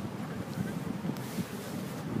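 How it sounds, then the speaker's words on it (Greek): Strong wind buffets the microphone outdoors in a steady, loud roar with gusty rumbling and no clear speech. "Ελπίζω να ακούγουμε γιατί φυσάει πάρα πολύ."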